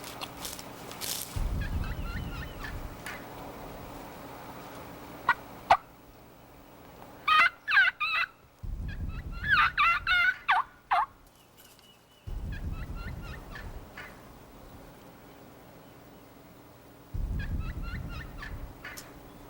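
A wild turkey hen calls in the woods, giving several bursts of sharp, rapid yelping and clucking broken by brief pauses, fairly close and clear over faint background rumble.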